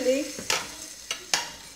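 Harira ingredients, including tomatoes, meat and spices, fry together in a pot while being stirred, giving a few sharp scraping bursts over a faint background sizzle.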